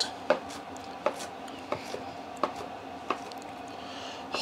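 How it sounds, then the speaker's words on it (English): A knife rough-chops smoked jalapeno popper wonton cups on a board. There are about seven crisp, separate thunks at an uneven, unhurried pace, close and clear over faint room noise. "Just rough chop it. Rough chop it, then come in. Just kind of rock your knife."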